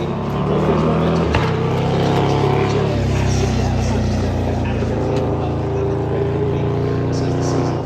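Twin-engine bagger motorcycles racing at Club corner on a MotoGP weekend, heard as a steady, fairly loud engine roar that swells as they pass, with a voice faintly beneath.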